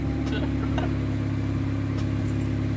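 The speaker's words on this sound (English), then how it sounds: "Alright, cold start, let's hear it." A Honda CR-Z hybrid fitted with a J2 Engineering exhaust idles after a cold start, giving a steady, close, low droning hum throughout, while voices talk over it.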